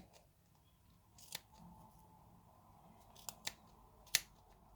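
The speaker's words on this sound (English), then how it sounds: "And then we trim our yarn." Scissors trimming loose ends of yarn on a crocheted bunny egg cover, giving a few quiet separate snips, one near the middle and a sharper pair and single cut toward the end.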